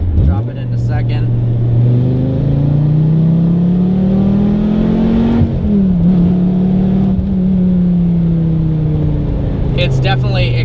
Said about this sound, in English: The car is very loud in every regard, in terms of road noise, wind noise, engine noise